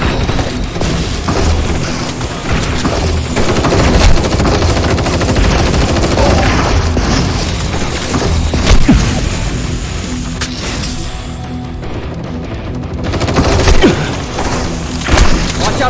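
Combat in the VR shooter Crossfire: Sierra Squad, with an RPG rocket explosion amid loud, dense gunfire, crashing booms and mechanical clatter that persist throughout.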